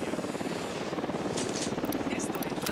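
A helicopter in the video game Ghost Recon Wildlands gives off a steady rotor thump under ongoing voice chatter, staying loud and constant throughout.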